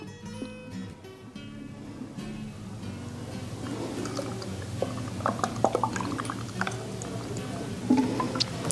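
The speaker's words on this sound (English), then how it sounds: "Pour your drink." Liquid pours into a glass filled with cranberries and a cinnamon stick, a continuous splashing, gurgling stream growing fuller and slightly louder as the glass fills, close and alone.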